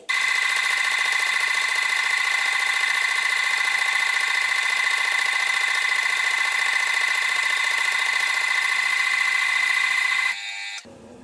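A metal shaper cutting a 4 mm spline slot into a lead screw shaft, giving a loud, steady mechanical whine with a fast repeating rhythm that runs continuously before abruptly stopping near the end.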